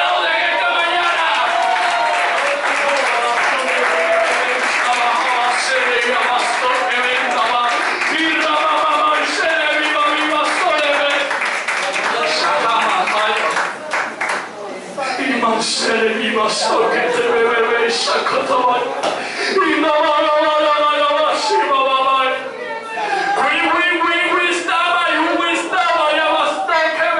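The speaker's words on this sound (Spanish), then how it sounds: "Aplaude en esta mañana." Church congregation during a Sunday-morning service, clapping and cheering amid loud music and a leader's amplified voice, a busy crowd texture under singing and shouting that dips briefly midway.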